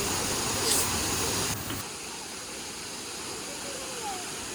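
Steady, broad rushing of the Kutralam waterfalls fills the whole clip, dense and continuous, slightly louder at first and then settling to an even roar.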